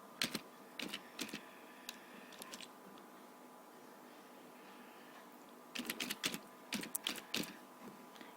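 Computer keyboard being typed on to enter a file name, two short bursts of soft, quick key clicks separated by a quiet pause, close and faint in a hushed room.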